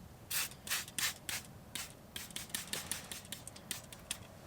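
Scrubbing of a white Tesla's interior seat upholstery comes through as a series of quick, rhythmic brushing strokes, faint and close, in bursts with short pauses.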